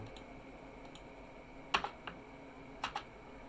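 Keys on a computer keyboard are tapped in a few quick, quiet clicks, then a short pair of slightly firmer strokes as Enter is pressed, close by over a low room hum.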